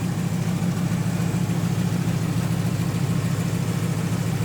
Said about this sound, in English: Got an exhaust leak, knew that.